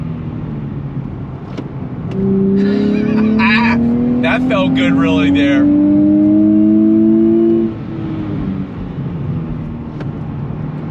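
A 2023 Nissan Z's twin-turbo engine pulls hard in second gear from about 3,000 RPM, a rising drone that swells loudly for several seconds before easing off, with someone talking over it inside the cabin.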